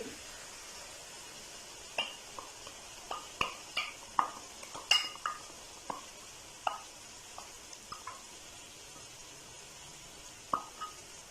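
Chow mein noodles tossed with sauce in a pan, with a spatula scraping and clinking against the metal in irregular strokes over a faint sizzle, quiet and close.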